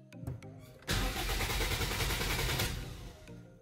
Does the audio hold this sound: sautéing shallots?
no